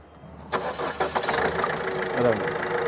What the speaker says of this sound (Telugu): ఇంజన్ కూడా స్టార్ట్ చేసారు